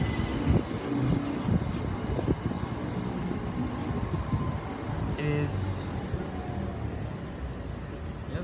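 A Class 375 electric train rumbles steadily at a platform at Dover Priory station, with brief metallic squeals and a short high hiss, and no voices.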